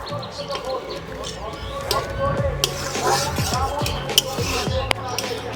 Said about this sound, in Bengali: এবারে এই ধনিয়া পাতাটাকেও ঝোলের সঙ্গে ভালো মতো মিশিয়ে নেব।